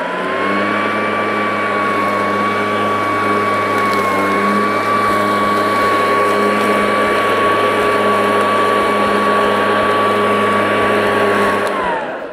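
A Stiga Aero cordless hover lawn mower runs steadily and close, its motor and fan giving a constant whine with a broad airy rush of air, unbroken for the whole stretch.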